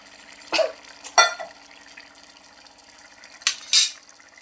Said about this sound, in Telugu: ఇంకా కొంచెం వాటర్ పడదాము.